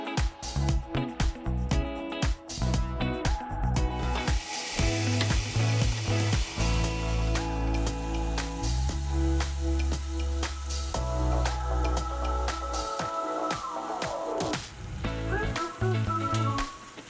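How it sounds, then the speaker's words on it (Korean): Pork belly sizzles steadily in a Lamp Cook rotating pan driven by a turning spit, a continuous loud frying crackle with faint mechanical whirring and occasional clicks. "보시다시피 집게 한번 안 들고도 아주 노릇노릇하게 삼겹살을 구웠습니다."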